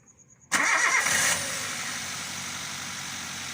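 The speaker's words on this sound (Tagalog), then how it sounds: "Yung Avanza, ito ngayon ang andar niya." A Toyota Avanza with a K3 engine, recently repaired for an engine noise issue, cranks briefly and catches, settling into a steady, fairly loud idle.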